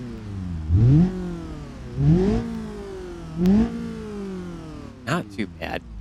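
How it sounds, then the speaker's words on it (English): A car in the BeamNG driving game, fitted with a shotgun blast exhaust, revs three times in rising surges, and each rev is followed by a short burst of sharp exhaust cracks at the end. "Shotgun blast exhaust."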